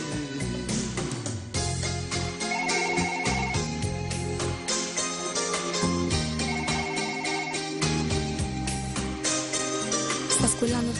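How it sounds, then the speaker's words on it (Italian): A telephone rings in a trilling, repeated pattern, mixed into loud, dense music with a steady beat. "Sta squillando il telefono"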